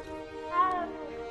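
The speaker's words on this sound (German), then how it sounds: "Das ist eine Katze." A cat meows once in the video game Hogwarts Legacy, a short drawn-out call standing over steady background music, fairly close and moderately loud.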